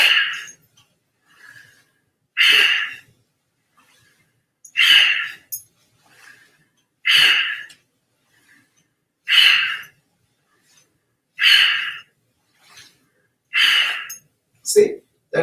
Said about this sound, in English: Take deep breath all the way in. Now come down with the breathing out quickly.